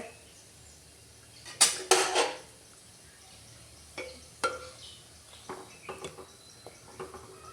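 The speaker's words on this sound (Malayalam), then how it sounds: "അപ്പോൾ ഗൈസ് ഇതാ മീൻ ഇടുകയാണ്." Pieces of vatta fish go into a pot of boiling curry soured with kudampuli, heard as quiet scraping and clinking of utensils, a brief louder clatter, then scattered soft taps over low background hiss.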